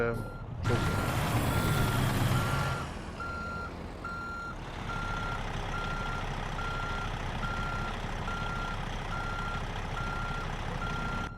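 An International LoneStar truck in American Truck Simulator reverses to couple its fifth wheel, with a hiss of air brakes, then a steady rhythmic reversing beep over a rumbling idling engine, close and continuous.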